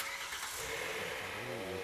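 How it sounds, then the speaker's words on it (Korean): A used car engine with 80,000 km turns over and settles into a steady running rumble, close and fairly loud, its sound rough. "엔진 소리가 안 좋아"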